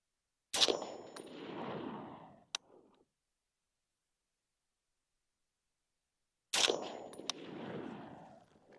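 Two loud, close Springfield M1A rifle shots several seconds apart, each a sharp crack followed by a long rolling echo that fades over about two seconds, with silence between.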